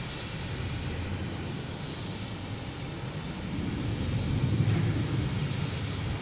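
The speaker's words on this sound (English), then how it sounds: "It's Southwest heading to Chicago Midway." A Southwest airliner takes off at Boston Logan Airport. A steady, broadband engine roar fills the whole span and swells louder toward the end, with no talking.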